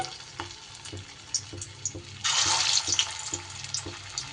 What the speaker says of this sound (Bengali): বাকি বলগুলোও কিন্তু আমি একই রকমভাবে কড়াইতে দিয়ে দিচ্ছি।